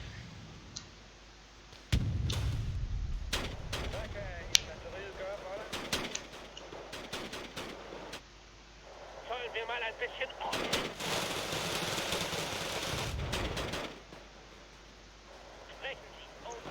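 Video game warfare with scattered sharp blasts and rattling gunfire bursts, clustered heavy impacts in places, under a commentator's steady talk.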